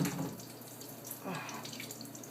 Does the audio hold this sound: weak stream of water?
yes